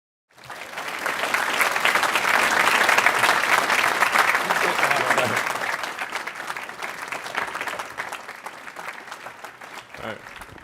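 Audience at Caltech breaks into sustained applause welcoming Elon Musk, a dense wash of clapping that swells quickly, holds strong, then slowly thins out over about ten seconds.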